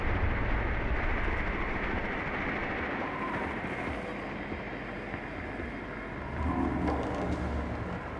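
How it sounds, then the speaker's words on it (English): A small drone rolls across the floor in the video game Rainbow Six Siege, a steady dense rumbling roll heard close and continuous, with no talking. "Drone to locate a bomb."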